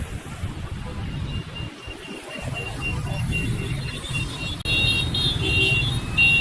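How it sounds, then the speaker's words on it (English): Busy Vietnam street traffic of cars and mopeds, a constant engine and road hum with scattered horn honks, louder toward the end. "Look at all those cars and mopeds, and everybody is honking at each other."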